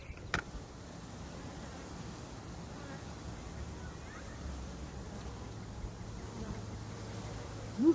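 Honey bees hum in a steady, dense drone from a packed nuc box hive during a backyard inspection, fairly close, with a brief click at the start.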